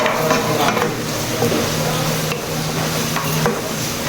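Banana heart (puso ng saging) sautéing in a pan, a steady sizzle and fry with occasional stirring scrapes and clinks, close and loud, with no talk.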